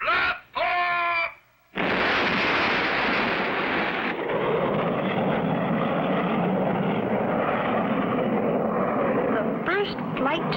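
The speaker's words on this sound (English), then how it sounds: "5, 4, 3, 2, 1. Blast off!" A cartoon rocket blasts off for the moon in a 1959 animated series. A few short tonal bursts come first, then a loud, sustained roaring rush takes over and holds to the end.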